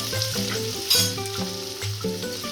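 Chopped green onions sizzle loudly in hot oil for brinjal bharta, with a steady crackling hiss broken by short stirring clatters and one sharper burst near the start.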